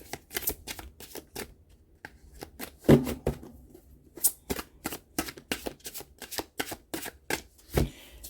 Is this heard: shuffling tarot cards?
yes